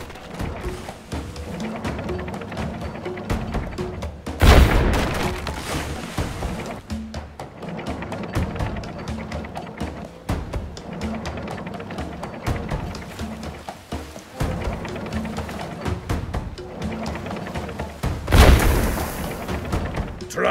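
Shots blasting targets in the video game Captain Sabertooth and the Magic Diamond, a busy run of rapid taps and thuds with two big booming blasts standing out.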